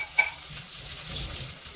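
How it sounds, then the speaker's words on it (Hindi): Cumin seeds tempering in hot oil give off a soft, steady sizzle with brief louder bursts near the start and end, as if stirred, and no voices are heard. "इसका छौंका मैं अब रेडी कर रही हूँ"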